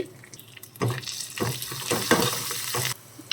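Dry red chillies, cumin, crushed garlic and curry leaves fry in a pan for tomato rasam and are stirred. Close, rough scraping and sizzling run for about two seconds after a quiet start, then drop away.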